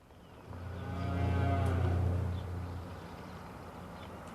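Cattle lowing on a farm during the 1997 Red River flood, one long deep moo swelling and fading over a few seconds against steady outdoor background noise.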